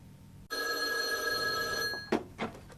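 A telephone rings once with a steady electronic bell tone, close and clear, then cuts off and is followed by a couple of brief handling knocks as it is picked up.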